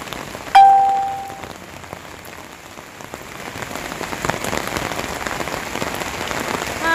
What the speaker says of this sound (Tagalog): Ayan, ang lakas po ng ulan.